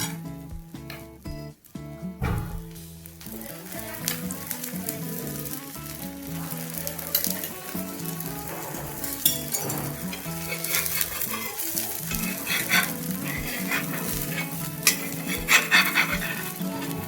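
Jowar dhirde, a thick sorghum pancake, roasting crisp on an oiled griddle pan, giving a steady close sizzle and crackle that runs through the whole stretch with a few clattering knocks near the start.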